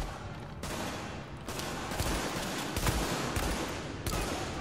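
Rapid, dense gunfire in the video game The Division: overlapping bursts and single shots crackle loudly and almost without pause, with sharper reports standing out from the stream.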